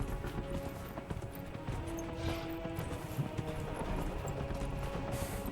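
Horse hooves clip-clop at a moderate pace in Dragon Age Inquisition, soft and somewhat distant beneath game ambience and faint musical tones.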